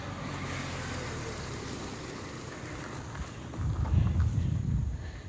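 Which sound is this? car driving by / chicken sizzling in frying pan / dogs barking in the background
car driving by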